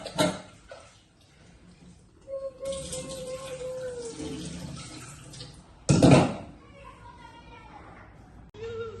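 Tap water runs steadily while kite string is being washed, a hissing flow that swells and cuts off in bursts, with a louder splash partway through and children's voices and nearby talk mixed in.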